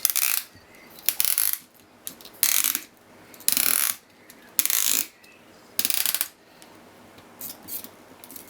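A part being screwed onto a MeArm version 3 robot arm kit with a hand tool, heard as about seven short, loud, close ratcheting bursts with brief pauses between them, then quieter scraping at the end.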